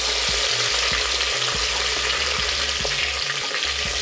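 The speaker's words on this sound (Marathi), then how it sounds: "टोमॅटो थोडीशी परतून घेऊ।" Tomatoes sizzle steadily as they sauté in a pan with softened red onion for basmati pulao, with a spatula scraping and tapping against the pan every half second or so.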